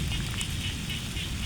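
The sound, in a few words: rain falling outdoors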